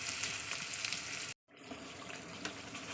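Onion and fish frying in hot oil in a kadai, a steady dense sizzle that cuts out briefly near the middle before resuming just as strong, close and alone without talk.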